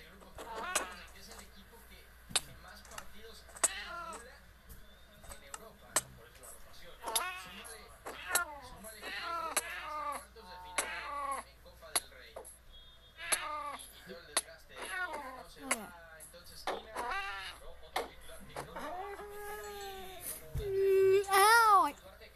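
A cat meows repeatedly in short, thin calls spread across a quiet room, the cries rising and falling, with a sharper, louder yowl near the end and occasional taps and clicks between.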